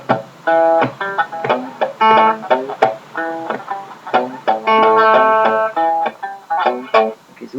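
Country blues guitar in chicken-picking style, with a syncopated open third string dropped between plucked notes. The notes are short, snappy and close, in a bouncy stop-start rhythm, and no one speaks.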